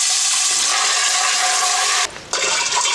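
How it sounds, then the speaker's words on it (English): Running water pours steadily into a kitchen sink as black beans are rinsed, a broad close splashing hiss that briefly cuts out near the end before resuming. "Rinse the beans off in the sink."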